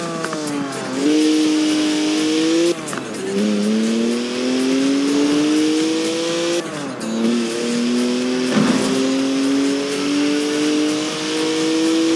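A BMW in the racing game Forza Horizon 4, with a top speed electronically limited to 155 mph, accelerates hard. The loud engine rises through several gear changes, and tires squeal briefly.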